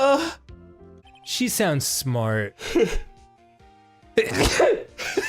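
A single sharp sneeze bursts out between stretches of casual talk and laughter from several people, with more chatter and vocal noises after it.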